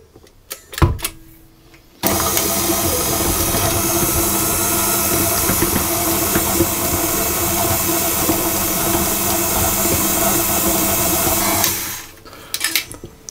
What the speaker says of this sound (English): I'm going to mix it on a slow speed until it's all mixed in